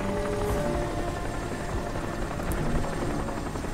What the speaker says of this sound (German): Ist das ein Hubschrauber?